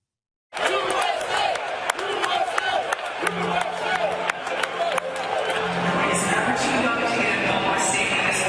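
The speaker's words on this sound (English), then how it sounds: "As the crowd chanted USA" Loud stadium crowd at a Jets game roaring and chanting USA, a dense sustained wall of voices with scattered claps and whoops that swells steadily louder.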